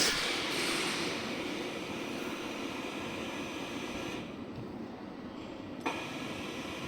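A European Plant MGP 1.2-tonne welding positioner, variable speed with power tilt, runs with a steady, fairly faint motor hum and noisy whir throughout, with a small clunk near the end.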